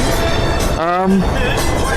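Steady rumble and rattle of a moving train carriage on a ride at the California State Railroad Museum in Old Sacramento, with a brief wavering tonal whine rising out of the noise midway.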